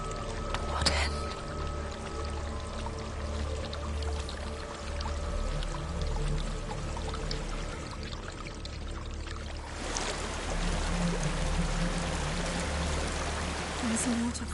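A waterfall roars steadily in the video game Hellblade, a constant rushing wash of water that continues for the whole stretch, with a soft voice speaking over it.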